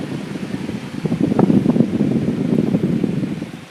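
A 1926–1930 Westinghouse electric fan blowing hard, a steady airy whoosh with fluttering rumble that swells slightly after switch-on, close and fairly loud with no talk.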